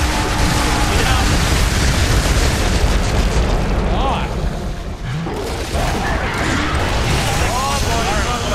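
Grenade explosion in Gears of War 3 co-op play, a loud booming blast amid dense, continuous gunfire and game action, with players talking over the chaos.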